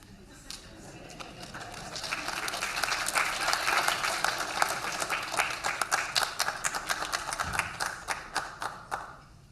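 An audience applauds presenters and winners at a climate resilience event, the clapping building to a full crowd sound, then thinning to a few scattered, distinct claps toward the end.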